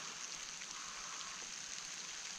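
Heavy rain falls in a steady, even hiss during a traíra fishing outing, faint and continuous with no voices.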